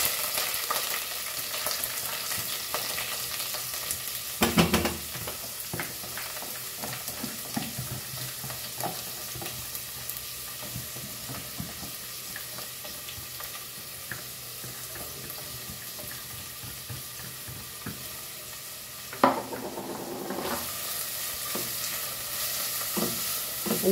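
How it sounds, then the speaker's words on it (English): Onion, green chili and ginger garlic paste frying in a pan for Goan chicken keema, a loud steady sizzle with stirring scrapes and a couple of sharper knocks, close and unbroken by speech. "Now we add this all three onion, chili and ginger garlic paste."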